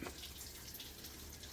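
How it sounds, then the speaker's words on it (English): Water runs steadily from a tap as a continuous, fairly quiet hiss and splash, even and unbroken throughout with no voices. "There's just water running."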